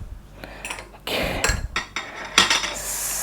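A utensil clinks and scrapes against a metal pot while cooling body butter is stirred, in irregular close knocks and rattles with short pauses between strokes and no talking.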